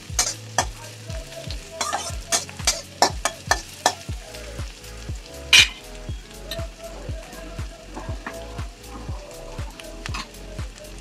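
Onion, ginger and garlic tempering fried red-brown, being stirred into dal in a home Bengali kitchen; steady sizzle with repeated rhythmic spoon scrapes and clanks against the pot, close and fairly loud, no talking.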